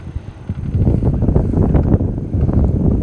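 Wind buffets the microphone outdoors during fly fishing, a close, loud, continuous low rumble with gusting rustle and no voices.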